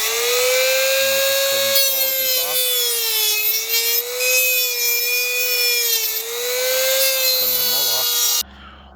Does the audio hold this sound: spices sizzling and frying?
no